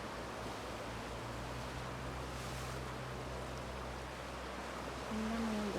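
Sea waves at Church Bay, Bermuda wash in as a steady, broad surf hiss with wind rumble against the microphone, heard alone and fairly faint.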